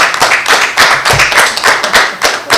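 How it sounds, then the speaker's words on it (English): Clapping from a small group at a town council meeting, distinct individual claps in a loose uneven rhythm, close and fairly loud, lasting a couple of seconds. "Would you all please give him some more applause?"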